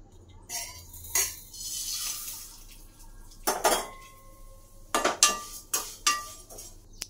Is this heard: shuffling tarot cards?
no